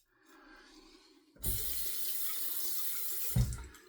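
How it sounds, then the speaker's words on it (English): Water runs steadily from a tap into a shaving lather bowl for a few seconds, a close, even splashing rush that starts abruptly and ends with a short gurgle. "we're gonna just add a little bit more water and just whip it up out of the bottom"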